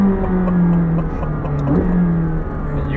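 A 2021 McLaren 765LT accelerates on the road, heard from inside the cabin as a loud, steady engine drone with a rising pull partway through, continuous for the full three seconds with no talk.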